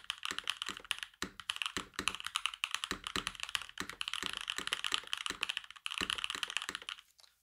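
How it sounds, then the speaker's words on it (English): Rapid typing on a mechanical keyboard fitted with pre-lubed long-pole switches, giving dense, steady clacks with short pauses; the sound is close and fairly quiet, with no voices. "this is basically how a long pull switch would sound on it"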